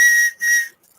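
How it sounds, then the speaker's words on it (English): A cheap little whistle from Temu is blown twice in quick succession, two short, shrill, loud toots close by, then silence. "Okay. Yeah, a little whistle."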